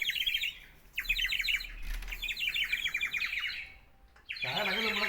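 Pet birds kept indoors chirp and twitter in rapid, bright bursts close by, pausing briefly between flurries. A louder harsher call comes at the end.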